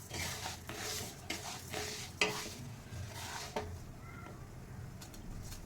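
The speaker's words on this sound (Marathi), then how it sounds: "तीन 4 मिनटं असं मस्त परतून घ्यायचा गव्हाचा भरडा." Broken wheat dalia stir-roasting in a pan over medium heat, with soft repeated scraping strokes and a faint dry sizzle, close but quiet, with no voices.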